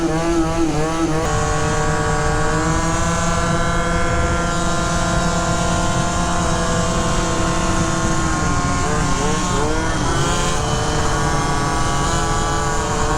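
Small Yamaha Zuma scooter engine revving steadily and loudly up close, its pitch rising and falling through several throttle blips with a continuous buzzing drone.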